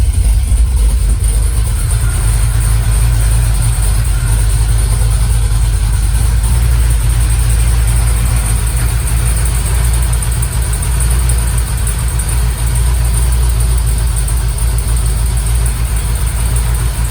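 A Camaro with new AFR cylinder heads idles steadily for the whole stretch, a constant close low rumble with a faint high whine above it, no talking.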